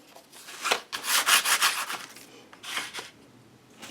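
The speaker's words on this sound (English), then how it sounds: "Sandpaper, just a little bit." Sandpaper rubbing over a small craft heart, a quick series of close, raspy back-and-forth scratching strokes in short bursts with brief pauses.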